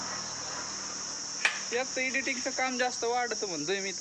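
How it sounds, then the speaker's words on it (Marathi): An insect, likely a cricket, chirps outdoors in a continuous high, steady drone that runs the whole time, while a person speaks over it after a sharp knock partway through. "काय किडा आरडतोय बाबा सकाळपासून"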